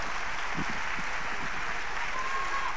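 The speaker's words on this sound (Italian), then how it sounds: "l'applauso è meritato perché hai scritto tutto tu" Audience applause for the composer at the Sanremo festival, a steady wash of clapping from a large crowd held at even strength throughout, with faint voices mixed underneath.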